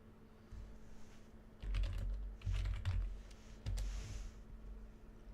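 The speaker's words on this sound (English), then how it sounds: "I'm going to try typing in chat and just seeing how long it takes for my message to appear" Someone types a message into a chat on a computer keyboard: soft, quick clusters of clicking keystrokes in several short bursts, fairly quiet and close, with no talking.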